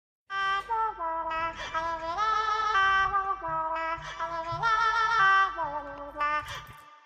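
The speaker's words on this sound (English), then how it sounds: "So this is my voice that I recorded and I pitched it up." A sung vocal loop, pitched up and drenched in room reverb, glides through sustained melodic notes over a faint low beat, sounding bright and slightly synthetic in an Afrobeats-style production.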